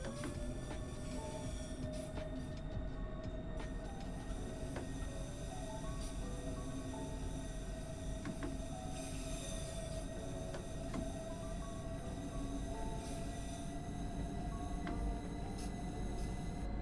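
A train rolls steadily through a Train Sim World 4 scene, with a continuous rumble, a sustained mechanical hum and occasional squeals and clicks over about seventeen seconds. No one speaks.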